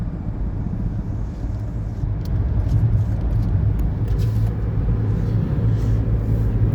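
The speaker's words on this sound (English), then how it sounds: "big truck showed up" A big truck rolls by on the road outside an open car window, a steady low engine rumble that grows slightly louder and lingers, heard alone without talk.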